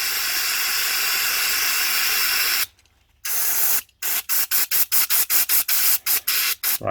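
Spray cleaner hisses onto a greasy Suzuki DR200 motorcycle, first in one long continuous blast, then after a pause in a quick series of short, even squirts, close and fairly loud.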